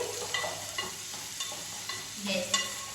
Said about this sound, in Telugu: సన్నగా తరిగి పెట్టుకున్న ఉల్లిపాయల్ని యాడ్ చేసేస్తున్నాం.